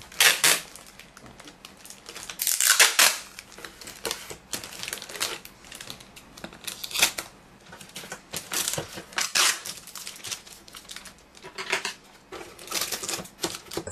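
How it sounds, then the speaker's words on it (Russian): Adhesive tape is pulled from a roll and wrapped around small bottles holding fuchsia cuttings to bind them together for posting. Repeated sharp, crackling rips and tearing bursts sound close up in an irregular rhythm. "Чтобы они внутри не болтались, можно зафиксировать бутылочку между собой скотчем."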